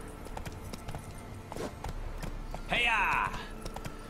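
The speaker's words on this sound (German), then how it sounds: "Reiten wir hier gleich durch die Büsche." Roach the horse galloping through bushes in The Witcher 3, with quiet, rhythmic hoofbeats and rustling, then a short shout urging the horse on.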